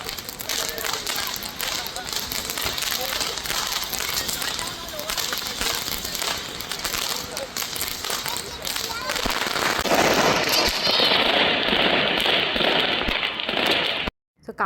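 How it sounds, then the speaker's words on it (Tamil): Deepavali firecrackers going off in a street celebration in Malaysia, a dense, continuous crackling barrage of rapid pops that grows louder and harsher toward the end before cutting off abruptly. "ஸோ ஃபைனலாக நானும் தீபாவளிக்கு வந்து பட்டாசு வந்து வெடிச்சாச்சு."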